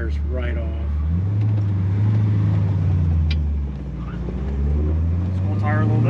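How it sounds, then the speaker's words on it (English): A restored 1965 Chevrolet Corvette convertible with a 327 engine fires up cold and settles into a steady, deep idle, its loud low rumble running throughout with a brief dip midway. "even ice cold, the car fires right off."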